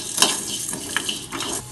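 Cumin, pepper and coriander seeds dry roasting in a pan give a steady close crackle and sizzle, with a few stirring scrapes across the short stretch and no talk.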